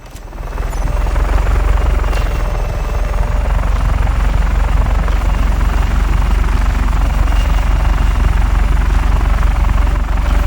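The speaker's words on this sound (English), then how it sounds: "I can also get, an actual cargo helicopter if I want." Cargo helicopter in Just Cause 3, a loud continuous rotor roar with steady rapid blade chop, close and unbroken for the whole stretch.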